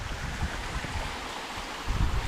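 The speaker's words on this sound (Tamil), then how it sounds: "இது ஃபுல்லாமே பார்த்திங்கன்னா மலையிலேருந்து வரக்கூடிய தண்ணிங்க." Mountain water flows along a stream, a continuous rushing wash with soft low rumbles, moderately faint and steady with no voices.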